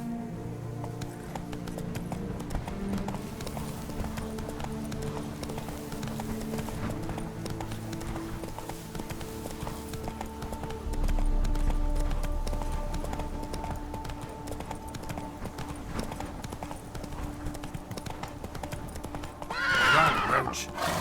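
In The Witcher 3 video game, the horse Roach gallops with a steady run of hoofbeats under game music and ambience, then gives a whinny near the end.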